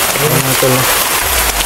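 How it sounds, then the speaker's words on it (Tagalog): Heavy rain on a mountain falls as a dense, loud, continuous hiss, with a voice speaking briefly over it. "Ito, no, malakas ang ulan."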